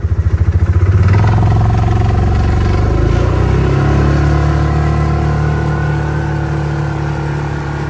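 An old, worn-out Yamaha Rhino UTV engine runs steadily and loudly up close, with a rough, clattering idle and a brief rev near the start.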